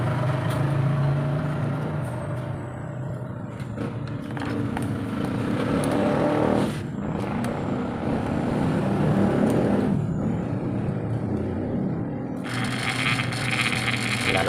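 A faulty washing machine runs loudly, its casing vibrating in a steady broadband rumble that persists throughout, with a brief brighter rattle near the end.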